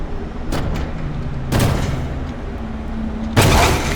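Gunfire in the video game Incision sounds as three sharp, loud shots spaced about a second or more apart over a steady background din, with no talking during them.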